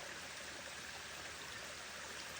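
Water trickling out of a rock in a wooded natural spot gives a steady, unbroken wash of soft splashing. The sound stays close and even throughout, with no voices.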